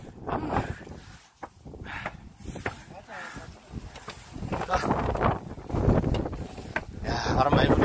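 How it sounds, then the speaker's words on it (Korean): Strong gusting wind buffets the microphone on the rainy summit of Baegunsan mountain in Gwangyang, with a loud, rough roar that swells and builds toward the end while people talk over it. "야, 바람 많이 불네, 진짜."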